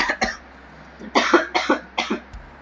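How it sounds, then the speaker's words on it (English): A person coughs close by: a couple of quick coughs, a pause, then a harsher run of several hacking coughs. "real attractive coughing"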